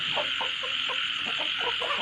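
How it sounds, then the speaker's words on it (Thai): Clucking from a young chicken about four months old, a cross-bred black fowl, in a short run of soft, repeated calls over a steady high-pitched background hiss. "วันนี้ผมนำไก่รุ่นมาแนะนำนะครับ"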